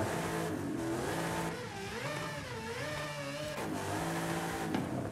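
A Nissan Tsuru fitted with a 7.2-litre big-block V8 racing engine in the video game Forza Horizon 5 revs and accelerates in loud, continuous rising and falling sweeps, with no talking.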